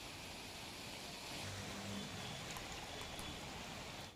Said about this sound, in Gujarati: આણંદના વલ્લભ વિદ્યાનગરમાં ધોધમાર વરસાદ વરસી રહ્યો છે